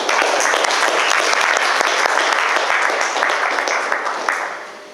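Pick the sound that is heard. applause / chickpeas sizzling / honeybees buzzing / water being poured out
applause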